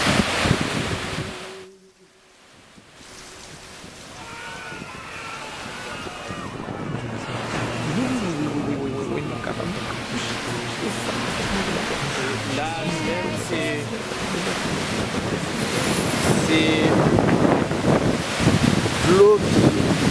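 Water from a river barrage on the small Artibonite river pours into an irrigation canal, a steady broad rushing roar that swells after a brief dip near the start and keeps going loud and close.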